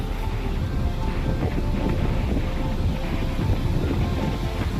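Sea waves at Murud beach on the Konkan coast break and wash in a continuous loud roar, with wind buffeting the microphone. Nobody speaks.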